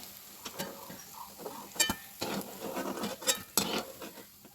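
Soybean kofta balls frying in mustard oil, with soft sizzling patter broken by scattered clinks and taps of a utensil against the pan, close and moderately quiet.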